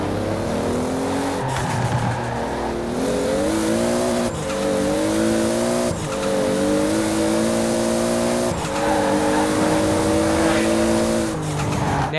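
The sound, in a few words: Toyota Supra Mk IV engine sound in Forza Horizon 4 video game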